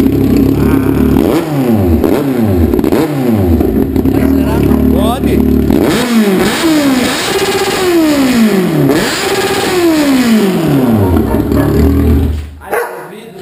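Kawasaki Z750 motorcycle on a lift with its exhaust baffle (glass-wool silencer insert) removed, revving hard in repeated loud rising and falling bursts, close and very loud, with a dog barking in the background before the engine cuts off near the end.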